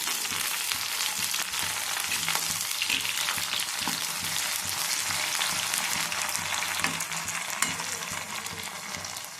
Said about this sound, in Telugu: ఇప్పుడు ఇందులో కరివేపాకు వేసుకోవాలి.